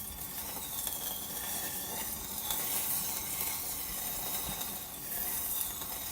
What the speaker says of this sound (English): You just want to wave it around in there until it cools off.